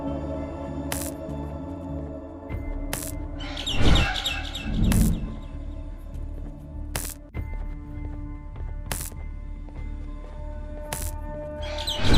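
Bird chirps in the horror game Garten of Banban 6, short bright calls repeating every couple of seconds over a droning ambient bed, with a couple of louder thuds early on.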